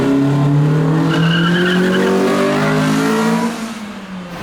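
Car engine revving hard with rising and falling tonal whine, loud and close, then dropping off near the end, heard alone without talk.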